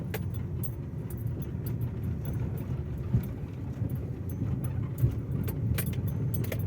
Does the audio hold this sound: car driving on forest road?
yes